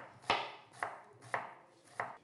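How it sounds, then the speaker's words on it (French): A knife slicing drained fennel into thin strips on a cutting board: four crisp, evenly spaced chops, close and fairly quiet. "je vais passer à la deuxième étape qui consiste à le tailler en fines lamelles"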